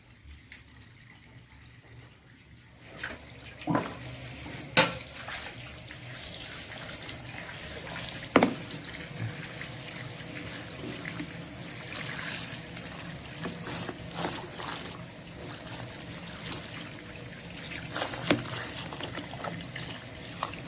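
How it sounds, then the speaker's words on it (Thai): Fresh water is poured into a 4.5 kg mini washing machine, a steady splashing trickle that runs continuously for about twenty seconds with a few louder sloshes and knocks, close by and with nobody talking. "พอน้ำออกหมดแล้วเราก็เทน้ำใหม่ลงไป"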